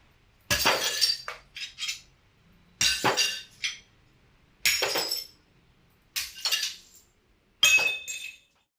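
Pieces of glass are smashed for an art piece in a studio, with five separate bursts of loud shattering and clinking, each followed by tinkling fragments and short pauses between strikes.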